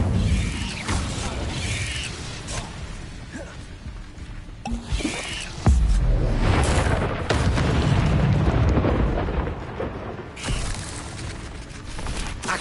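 An Incendio fire spell cast in the video game Hogwarts Legacy: a loud roaring burst of flame erupts midway and keeps rumbling for several seconds, with softer whooshing spell effects before and after.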